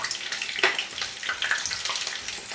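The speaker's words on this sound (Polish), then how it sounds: "Słychać jak tłuszcz zaczyna skwierczeć" Hot fat sizzles and crackles steadily, with bright popping spatters throughout as fish balls fry up close.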